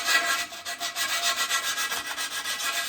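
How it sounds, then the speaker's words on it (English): Hand sanding with 120 grit sandpaper on a shower door track during a glass sliding door install, a quick rhythmic rasping of back-and-forth strokes, close and steady with no talking. "now I'm switching back to that 120 grit sandpaper. And then I'm just gonna smooth that out"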